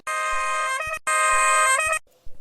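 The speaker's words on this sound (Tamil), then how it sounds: "ம் சரி ஒரு ஹாரனே அடிச்சு பாப்போம்" Two loud, sustained horn blasts sound up close, one right after the other, each lasting about a second, followed by quiet.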